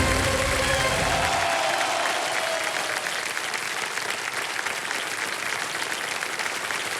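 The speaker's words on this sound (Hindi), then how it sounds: "आइए, बिग हैंड फॉर विप्लव बिसाई।" Loud, sustained applause from a game-show studio audience for a contestant on Kaun Banega Crorepati, a dense, even roar of clapping with a brief low hum near the start.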